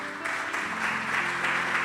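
A church congregation breaks into applause, a continuous, moderately distant wash of many hands clapping over a low sustained hum, with no speech on top.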